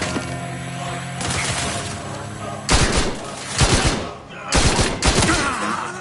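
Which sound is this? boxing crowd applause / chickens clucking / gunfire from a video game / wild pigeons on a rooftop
gunfire from a video game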